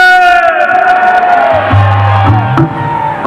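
Crowd at an outdoor Bhim festival concert shouting Jai Bhim and cheering, loud whoops and bellowing voices over amplified music and a deep bass tone.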